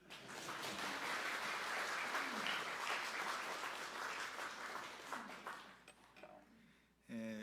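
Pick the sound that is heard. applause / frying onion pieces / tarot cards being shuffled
applause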